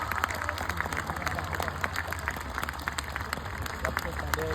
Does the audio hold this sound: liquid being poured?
no